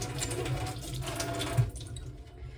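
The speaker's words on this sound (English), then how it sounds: "I'm rinsing them off in filtered water." Soaked nuts rinsed under filtered tap water, a steady close splash of running water that continues throughout, slightly easing near the end.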